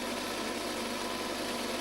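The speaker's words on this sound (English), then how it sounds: "chief engineer testing the engines. Those are the Moderni engines." Four 2.9-litre Moderni marine engines on a racing boat running at idle during testing, a steady even drone with constant loudness and no voices.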